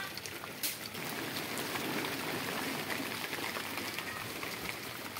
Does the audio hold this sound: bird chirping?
no